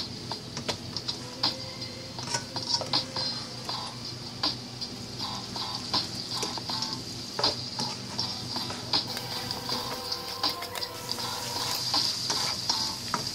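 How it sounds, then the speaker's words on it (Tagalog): Pancit miki noodles fry in a pan as soy sauce is added, with steady close sizzling and frequent light stirring clicks and scrapes throughout. "And just add some soy sauce."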